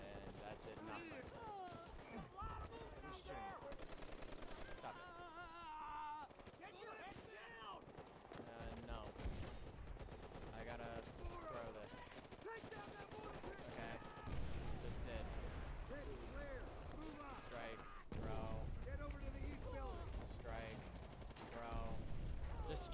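Machine gun fire in Call of Duty: World at War rattles in repeated bursts alongside booming explosions and battle noise, while voices talk throughout.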